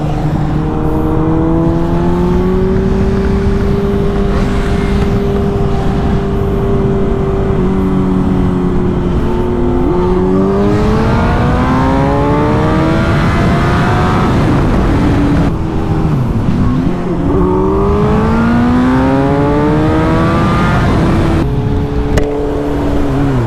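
Yamaha R1, BMW S1000RR and Suzuki GSX-R1000 sport motorcycles rev loudly and continuously, engine pitch climbing and dropping in long sweeps as one lifts into a wheelie, close and dominant throughout.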